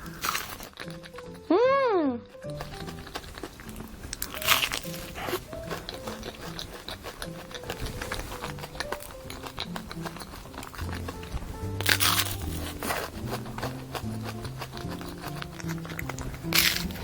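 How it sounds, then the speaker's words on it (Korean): Biting and crunching into a crispy croffle thickly coated with Nutella and topped with banana; loud crisp crunches come in bursts while a person talks. "이 뉴텔라를 이렇게 두껍게 코팅을 했는데도 크로플 겉에 그 바삭바삭함이 느껴져요."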